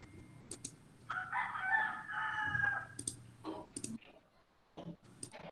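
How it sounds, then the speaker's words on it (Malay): A rooster crows loudly and at length nearby, a drawn-out call that rises and holds, with scattered clicks and brief speech around it. "sorry, ayam dia kuat pula."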